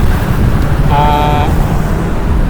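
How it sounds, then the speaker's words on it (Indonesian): Strong wind buffets the microphone beside the Mahakam River as a tugboat tows a coal barge past, a steady loud roar with a brief tonal whine partway through. "sangat derasnya angin ya"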